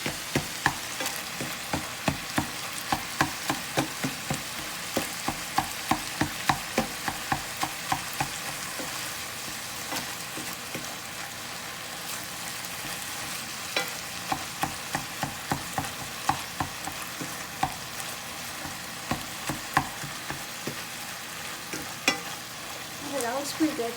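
Ground beef frying in a pan for a Korean beef dinner, with steady sizzling throughout and frequent scraping clicks of a utensil stirring the meat in a regular rhythm, close up and without talk.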